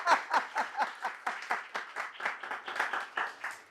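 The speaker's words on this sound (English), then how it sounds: "Come on, they applauded already at the beginning" An audience applauds at a PyScript tech talk, a steady patter of many hands clapping at moderate distance, fairly quiet and even throughout with no speech over it.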